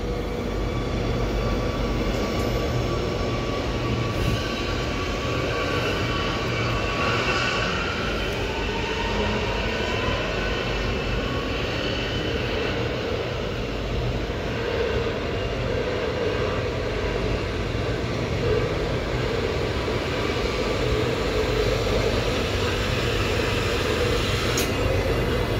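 Amsterdam metro train on line M52 pulling into a station, a steady close rolling rumble with low-pitched rail noise and faint whining tones that holds level throughout, no voices.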